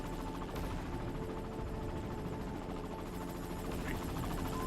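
A helicopter in a video game hovers with a steady whirring drone while its gunfire crackles through, a continuous dense mix at fairly even loudness with no voices.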